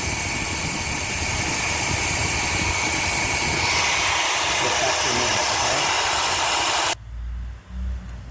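A hair dryer heats a fencing foil blade, blowing a loud, steady, close roar of air that runs for several seconds and then cuts off abruptly, leaving a low rumble.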